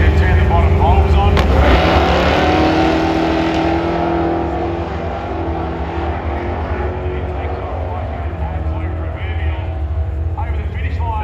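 Drag racing cars at Tailem Bend, loud engine roar and revving close by that eases slightly after a few seconds, with a commentator talking over it throughout.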